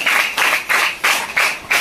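Rhythmic, synchronized clapping from an audience at a Don Bosco school event, close and loud, with about five evenly spaced bursts of many hands.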